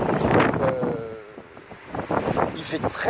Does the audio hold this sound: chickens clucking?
no